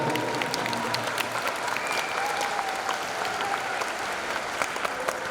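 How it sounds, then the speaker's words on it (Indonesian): Students at a new-student orientation at Madrasatul Quran Islamic boarding school applaud the morning's speaker, a continuous steady patter of many hands clapping that fills the whole stretch at moderate volume. "Tepuk tangan dulu untuk pemateri kita pada pagi hari ini"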